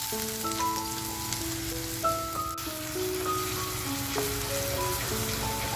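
Chopped onion hits hot oil in a clay cooking pot for a prawn masala, producing a soft, continuous sizzle and light crackle under faint melodic background tones, with no voices.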